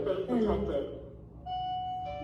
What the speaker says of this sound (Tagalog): May bell din to eh.